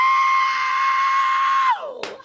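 A voice imitates a screeching whistle, holding one steady high pitch for nearly two seconds before bending downward, followed by a brief breathy burst.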